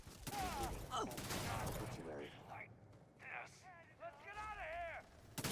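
Rapid bursts of gunfire crackle in the video game Starfield, loud and dense at first, then sporadic shots under talking voices from game characters.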